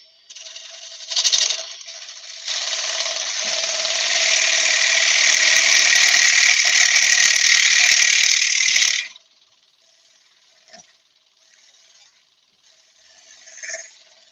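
A wood-turning lathe cuts deeper into a spinning workpiece with a steady high scraping whine that holds for several seconds, then stops, leaving only faint ticks and brief touches afterward.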